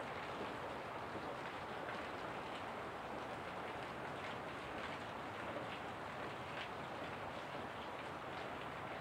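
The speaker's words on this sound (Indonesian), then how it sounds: "Inilah situasi Makassar sekarang ini, masih diguyur hujan." Heavy rain pours down in Makassar during a storm with strong wind: a dense, steady hiss of falling water that holds at an even level throughout, with no voices.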